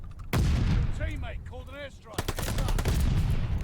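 Rapid bursts of submachine gun fire in the first-person shooter Call of Duty Vanguard during ranked multiplayer, loud and close, with a pause holding warbling in-game effects before sustained gunfire resumes.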